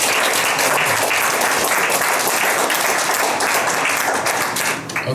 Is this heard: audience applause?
yes